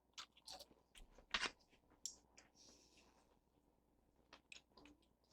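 Crisp crunching bites into German fried potatoes with bacon, several sharp chewing crunches close to the mic with a few softer smacks in between, no talking.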